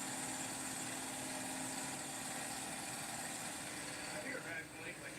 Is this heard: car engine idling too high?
yes